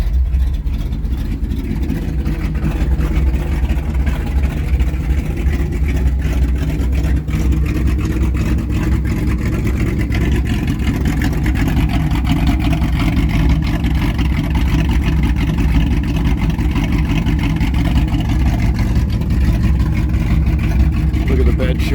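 A 1965 Ford F100 V8 fitted with a Bettie Predator carburetor and no idle circuit idles with a continuous, lumpy rumble, steady and close for over twenty seconds.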